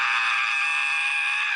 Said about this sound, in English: I scream.